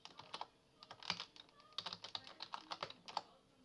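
Rapid, irregular keystrokes from a computer keyboard as a password is entered on an Ubuntu machine, clicking in quick bursts with short pauses, close and clear with no talking.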